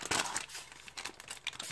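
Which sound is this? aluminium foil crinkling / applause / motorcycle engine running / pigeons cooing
aluminium foil crinkling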